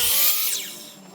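Power saw cutting 8-foot fascia trim boards down to 32-inch lengths, a short loud burst of blade noise that fades over about a second.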